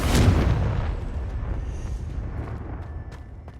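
A Confringo blasting spell explodes in the video game Hogwarts Legacy, a loud booming burst up front that rumbles and fades over a few seconds, with no talk.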